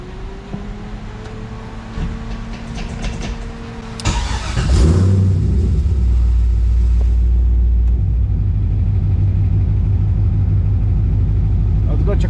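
LS-swapped BMW E46 cranks over, fires and settles into a loud, steady rumbling idle, heard close up after a few seconds of quieter background.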